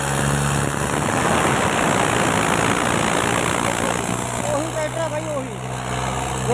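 A New Holland tractor engine pulling a trolley in a tractor trolley-pulling contest rumbles steadily up close, a low, continuous diesel drone that holds for the whole stretch without pausing.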